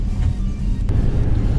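The 316 cubic inch V8 of a 1956 Pontiac Chieftain rumbles loud and close in a steady, deep idle, with no voices over it.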